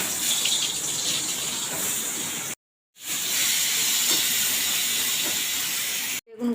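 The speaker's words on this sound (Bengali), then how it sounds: "প্রথমে আমি বেগুনগুলো ভেজে নেব।" Brinjal slices frying in oil in a wok make a loud, steady hissing sizzle, cut by two brief silent breaks.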